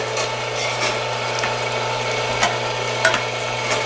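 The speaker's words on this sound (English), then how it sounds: "So this grinder works pretty good." Electric grinder running at an Italian community center, a steady mechanical whir with a low hum and occasional clicks and rattles, fairly close and continuous throughout.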